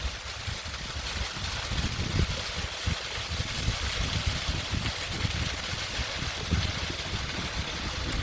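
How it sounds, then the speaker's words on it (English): Small waterfall on the Kinneil Estate in Bo'ness, Scotland, a steady broadband rush and splash of falling water, constant and fairly close, with no voices over it. "Many summer days I spent underneath that waterfall."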